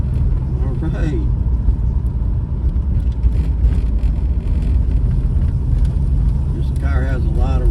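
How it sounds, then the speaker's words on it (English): V8 Ford Falcon driving with a steady engine and road rumble, faint rattles and squeaks from the cabin, loud and continuous, with someone talking briefly. "Car has a lot of rattles and squeaks, creaks."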